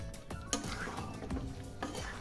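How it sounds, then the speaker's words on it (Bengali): Chicken and potato pieces sauté in a pan, with a soft continuous sizzle under repeated scraping stirs of a spoon against the pan, close and moderately quiet, with no talk. "আলুটা দিয়ে আরও 2-3 মিনিট ভালোভাবে কষিয়ে নেব।"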